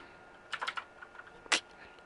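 Quick bursts of clicks from someone typing on a computer keyboard, a short run of keystrokes followed by a pause and then one sharper, louder clack, close by with no talking.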